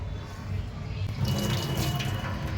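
Water runs from a tap to wet metal chains before they are rubbed with Colgate toothpaste, a brief, steady splash and gush that swells slightly louder midway.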